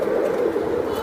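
Pigeons at a busy pigeon market give low, rolling coos, close and continuous with a soft warble, and no voices over them.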